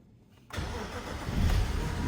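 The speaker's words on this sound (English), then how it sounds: "the car started normally" A BMW E60 engine cranks and catches after a quiet pause, then settles into a steady, close running rumble that swells slightly toward the end.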